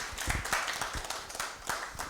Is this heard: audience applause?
yes